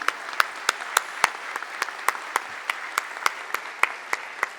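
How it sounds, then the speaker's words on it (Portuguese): Conference audience gives a mother and daughter steady applause, with clear individual claps standing out over a dense, moderately loud clapping texture that holds for several seconds. "eu queria pedir uma salva de palmas para a mãe e para a filha"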